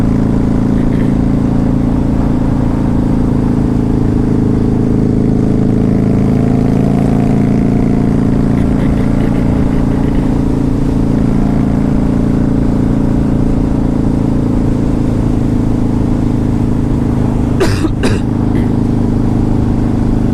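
A Harley-Davidson V-Rod motorcycle engine on a test ride, a loud, steady low drone heard up close throughout with little change in pitch and a brief clatter near the end.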